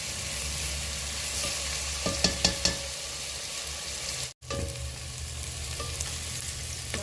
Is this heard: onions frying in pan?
yes